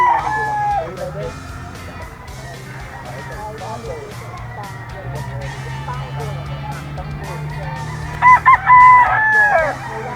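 A gamefowl stag with a straight comb crows briefly near the end, a short loud call standing out over steady farmyard background and other faint fowl noises.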